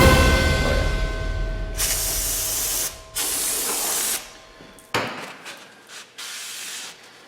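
CRC Brake Clean Pro Series brake cleaner hisses from an aerosol can onto car brakes, a Mazda MX5 Miata's. Two long sprays are followed by several shorter bursts, loud and close, with no talking.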